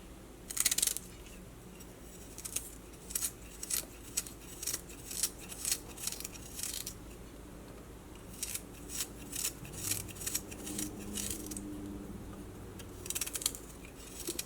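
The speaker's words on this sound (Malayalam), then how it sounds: "ഇഞ്ചി എന്നാലും നല്ല ചെറുതായിട്ട് നല്ല കുരുകുരുന്നെ കട്ട് ചെയ്തിട്ട് നല്ല കനം കുറച്ചിട്ട് കട്ട് ചെയ്തിട്ട് ചേർക്കാം" Ginger is sliced thinly on a board for vada batter made from leftover dosa batter, producing bursts of sharp, crisp cutting clicks in quick runs with pauses between, close and quiet, with no talk.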